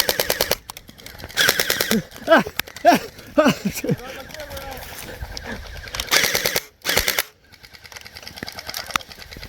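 A YAGEE DGR gel blaster fires rapid full-auto bursts in short strings of fast, even cracks, close and loud during a backyard battle, with pauses between bursts and people talking and shouting around it.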